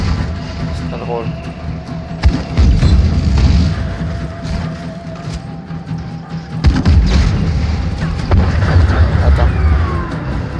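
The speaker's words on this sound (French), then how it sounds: "On y va au lance-grenade, hein?" Grenade launcher explosions in the video game Just Cause 3, a series of booming blasts and thuds at roughly 2.5 and 6.7 seconds over continuous low rumbling game noise, with someone talking throughout.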